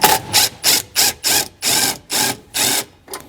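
A 10mm socket ratchet clicks in eight steady, loud bursts while backing a bolt out of a subwoofer amplifier bracket in a Tesla Model 3 or Model Y.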